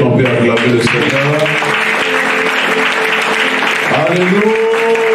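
A church congregation claps and cheers steadily throughout, a loud, dense wash of applause with voices singing or calling out over it.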